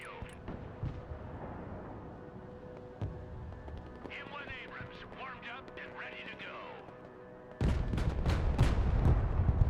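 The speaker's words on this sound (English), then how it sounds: "Oh, they might be shooting at the supplies." Artillery and gunfire from the video game Broken Arrow boom and crackle in scattered bursts, then a dense, heavy barrage near the end, under steady talking.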